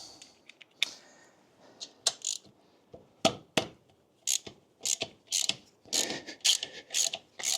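Half-inch socket ratchet loosening a bolt on a motorcycle engine, quick uneven bursts of metallic clicking, close and fairly quiet, with short pauses between strokes.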